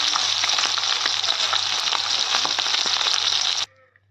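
Fish pieces frying in hot oil give off a dense, steady crackling sizzle close by, broken by faint scrapes as they are lifted out, before the sound cuts off abruptly into near silence.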